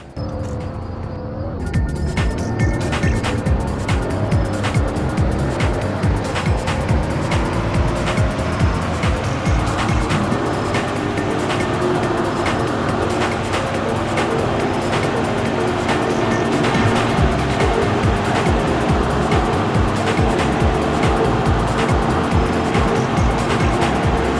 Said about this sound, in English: here's how the Tiguan S accelerates for those of you that are interested